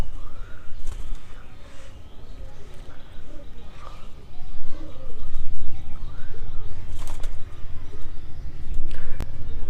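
Pigeons on a rooftop coo in soft, repeated low calls with a few chirps and wing flutters, the sound swelling louder in the second half over a constant background rumble.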